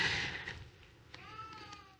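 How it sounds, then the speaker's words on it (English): A house cat meows indoors, a soft, short call that is faint and fairly distant against a quiet room background, heard alone without talk. "Hopefully you're not hearing my cat."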